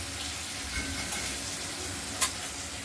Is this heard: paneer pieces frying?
yes